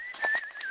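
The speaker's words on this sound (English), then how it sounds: "I muted the whistle, the lead-in, which originally was like this." A short whistled lead-in from a song project: one steady, clear whistle note holds throughout, with soft, brief accents under it.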